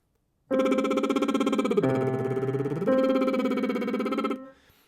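A sustained sung note drops an octave for about a second, then rises back, the tone slightly under pitch and lightly vibrating, with no talking.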